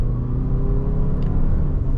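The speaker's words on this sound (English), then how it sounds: "You can definitely hear the engine quite a lot" A 2026 Toyota RAV4 Limited hybrid accelerating hard in sport mode with the pedal floored, its engine giving a steady, loud low rumble and drone from inside the cabin, with no speech.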